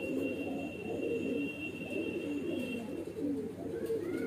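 Garra pigeons coo steadily, low and rolling, fairly close and faint, with no talk over them.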